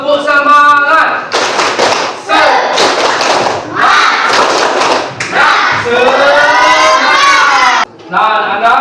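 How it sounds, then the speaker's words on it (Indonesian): Schoolchildren in a classroom do a rhythmic spirit clap, loud patterned claps and thumps mixed with shouted chanting voices in bursts, close and energetic. "Coba tepuk semangat."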